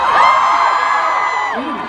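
A large concert crowd at a show screams and cheers loudly, a dense sustained wall of high-pitched shrieks and whoops close and continuous throughout.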